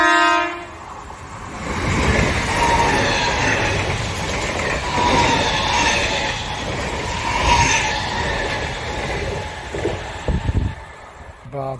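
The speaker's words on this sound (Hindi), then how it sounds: "यहाँ रफ्तार से ट्रेन जाता है, डर लेता ट्रेन से।" A train rushes past at speed beside a temple, a loud sustained rumble of rail cars with clattering wheels and a horn tone, continuous for most of the stretch and fading near the end.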